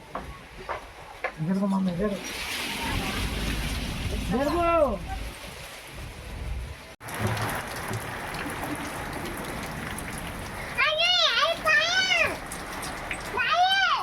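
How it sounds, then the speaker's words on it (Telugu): Steady rain hisses throughout while a cat meows loudly several times, in short clusters near the start and again toward the end. "వర్షం రాదనుకున్నాం కానీ వస్తుంది."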